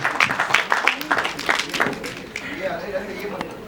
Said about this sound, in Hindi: एक बार तारा के लिए जोरदार ताली होनी चाहिए प्लीज